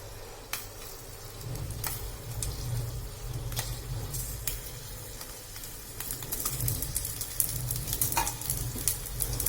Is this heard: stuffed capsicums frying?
yes